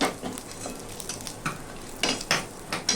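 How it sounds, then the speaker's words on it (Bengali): Bay leaf, cardamom, cinnamon pieces and cumin are stir-fried in hot oil, a soft sizzle under a few sharp metallic scrapes and clinks of a spoon against the pan, close and brief. "ফোড়নটা একটু নাড়াচাড়া দিয়ে ভেজে নেব।"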